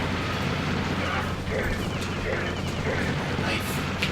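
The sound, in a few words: gunfire in Aliens vs Predator video game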